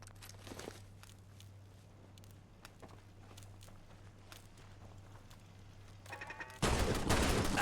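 Turret gunfire in Fallout: London: scattered sharp shots crackle at mid distance over a steady low hum, then a loud dense burst of fire erupts near the end.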